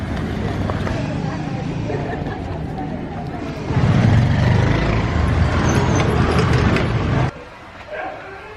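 Ride on a public bus from Ratna Park to Patan: a steady low engine rumble with road noise and chatter underneath, growing louder midway, then cutting sharply to a quieter interior near the end.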